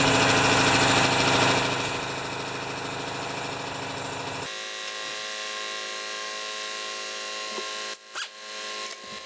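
An old Honda HRA214 lawn mower with a sticky blade clutch runs close by: a loud, dense engine roar for about four seconds, then a steadier, quieter idle hum, with a couple of brief knocks near the end.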